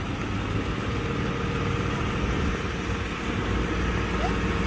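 A tractor engine runs at a steady low idle on a farm, a continuous broadband rumble at moderate distance with no talking.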